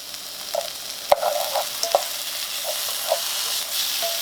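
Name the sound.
pork stir fry sizzling with serrano peppers and garlic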